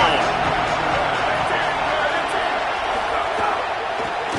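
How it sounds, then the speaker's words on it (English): A stadium crowd at a football game roars as a steady, dense wash of cheering and shouting, loud and unbroken throughout without distinct individual voices standing out. "This crowd ready to make its presence known."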